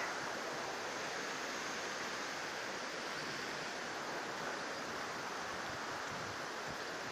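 The Lagares river in Vigo flows in a steady, even rush of water. The hiss holds constant throughout, moderately quiet and with no voices.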